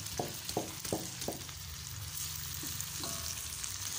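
Chicken feet frying in hot oil for a spicy fire-chicken dish, giving a steady broad sizzle with several sharper spatters and stirring knocks in the first second and a half, no talking.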